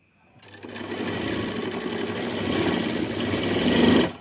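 A sewing machine stitches a blouse seam, starting after a brief hush and then running in one continuous, close, buzzing whir that builds slightly before stopping abruptly.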